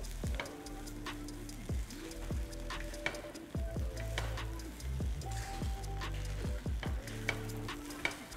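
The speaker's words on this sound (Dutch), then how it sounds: "Gewoon blijven omscheppen, blijven draaien hoor." Ketchup fried rice sizzles in a pan while being stirred and turned over, with a steady frying hiss broken by repeated scraping and clacking of the utensil against the pan, close and moderately quiet.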